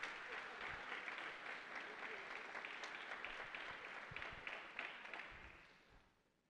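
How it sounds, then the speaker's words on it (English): Audience applause for student volunteers at a new student and family orientation, a sustained, even crowd clapping that holds steady, then gradually fades out at the end. "So if we could we just acknowledge them with a round of applause?"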